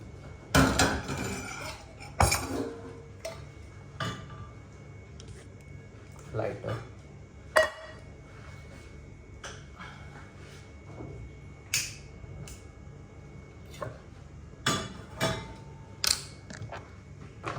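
Steel pots, cutlery and dishes clatter and clink in sharp bursts as tea is put on in a small room kitchen, with scattered knocks between them and quiet talk at times.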